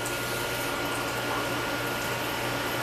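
Regular tap water pours steadily into a glass in a steady, full-sounding rush that runs unbroken and close, with no talking.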